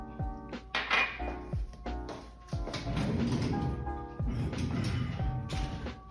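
A spoon scrapes and clinks against a bowl as sweet potatoes are mixed with chili powder, salt and pepper. The ringing knocks are close and repeated steadily, with no talking.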